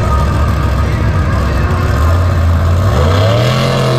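A monster truck at a Monster Jam show in Houston lines up a reverse popper, its engine roaring loud and close, then rising in pitch as the revs climb over the final two seconds, with no voices.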